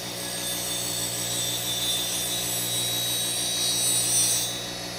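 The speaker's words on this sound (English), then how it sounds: "I'd like to reduce the width of the cutting bevel, mainly at the tip, to a 16th of an inch or less, and I'll do that freehand on the wheel" A woodturning gouge is ground freehand on a sharpening wheel, a steady motor hum with continuous hissing grit contact at close range, easing off at the end.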